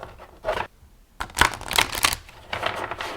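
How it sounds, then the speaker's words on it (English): A Dark Mirror Oracle card deck riffle shuffled several times, with quick crisp flurries of flicking card edges separated by brief pauses, close up. "let me see how this riffle shuffles"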